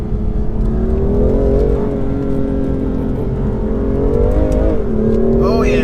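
A 2019 BMW M2 Competition engine pulls hard in second gear, a loud, close rising drone heard from inside the car that dips briefly near the end before climbing again.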